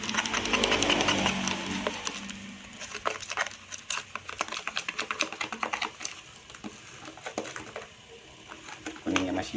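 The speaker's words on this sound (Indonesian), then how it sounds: "kita aduk sampai benar-benar dia berbusa" A catfish bait mixture is stirred briskly until foamy, batter-like, with egg yolk still being blended in; quick irregular clicking and scraping strokes carry on steadily, with a voice speaking over parts of it.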